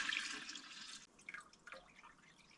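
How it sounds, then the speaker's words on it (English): Cooled sweetened tea poured into a kombucha jar in a cabin kitchen, a bright steady splash for about a second, then softer trickles and drips as the stream tapers off, quiet and close. "Now I'm just going to pour this all in here."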